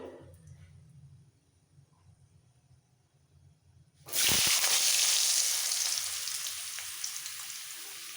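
Washed cut potatoes hit hot oil with tempered spices, setting off a sudden loud sizzle after quiet low frying, then a steady bright crackle that slowly eases.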